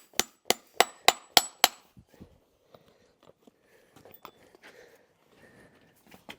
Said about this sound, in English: we should just be nailing it on nice and gentle